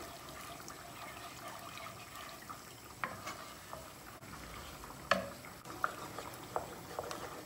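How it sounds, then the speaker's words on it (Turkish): Flour is stirred in a mixing bowl, producing a faint, soft scraping and swishing with a few light knocks against the bowl, quiet and without voices. "Unumuzu bir karıştıralım."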